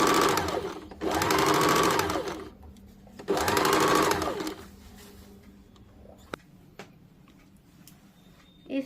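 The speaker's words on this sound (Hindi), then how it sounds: "अब इसको ऊपर वाले हिस्से में थोड़ा सा मोड़ के पूरे में गोलाई से सिलाई" Sewing machine stitching a bias-cut churidar fabric curve, running in two steady bursts of about two seconds each separated by a pause, followed by quieter handling clicks and taps.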